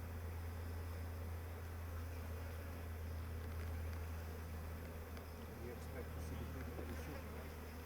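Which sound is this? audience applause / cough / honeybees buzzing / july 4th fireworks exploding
honeybees buzzing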